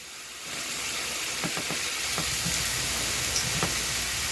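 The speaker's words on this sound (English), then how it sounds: "I want the heat to sweat, caramelize the turkey, and I don't want a lot of juice show up in my frying pan" Ground turkey frying in a hot frying pan for a bell pepper stir-fry, a steady loud sizzle with a few soft clicks of stirring, close up and with no talk.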